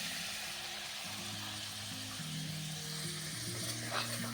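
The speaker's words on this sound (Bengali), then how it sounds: "এখানে কাঁচা লঙ্কা আদাটা আমি ভালো করে তেলের সঙ্গে নাড়িয়ে নিয়েছি, ভাজাও হয়ে গেছে।" Green chili and ginger paste fries in oil as poppy seed and sesame paste go in, giving a steady, close sizzle with a faint tonal hum running underneath.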